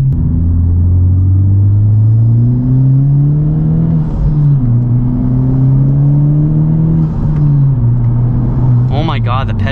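A Honda Civic Type R in R mode, fitted with an aftermarket Rampage turbo inlet pipe, accelerates hard through a third-gear pull. The loud in-cabin engine drone climbs steadily in pitch with brief dips at the shifts.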